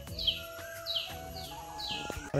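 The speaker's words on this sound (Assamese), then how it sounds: "কুলিৰ শব্দ শুনি পাইছে না কুলিৰ মাত কি শুৱলা একদম কুলিৰ মাত" An Asian koel calls near a cottage and tents in Manas National Park, giving four clear, evenly spaced sweeping notes at moderate distance over a quiet outdoor background, with no talking.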